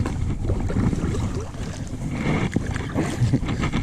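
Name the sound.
kayak paddling on water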